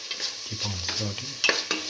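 A tomato and split pigeon pea mixture sizzles as a spoon scrapes and stirs it through the pan, brief close strokes over a low hiss.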